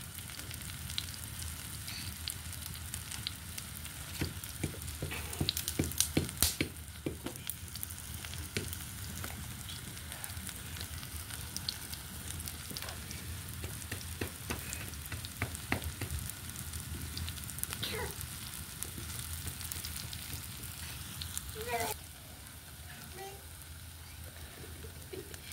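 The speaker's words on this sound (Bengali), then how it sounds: "আমরা কয়েকবার উল্টিয়ে তারপর সুন্দর করে ভেজে নিয়েছি।" Cabbage fritters frying in oil on a clay stove, a continuous soft sizzle with scattered crackles and pops, plus bursts of clattering as they are turned, fairly close and without talk.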